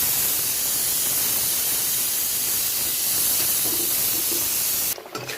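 Pressure cooker loaded with rice, releasing a steady, loud steam hiss that holds for about five seconds and then drops away sharply near the end.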